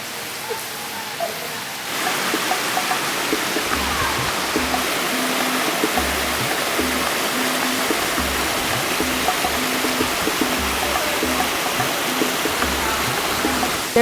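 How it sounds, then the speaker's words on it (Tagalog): Daranak Falls in Tanay, Rizal roars as a loud, dense, continuous wash of falling water, steady throughout at close range, with no talking. "Daranak Falls is one of the flagship destinations of Tanay"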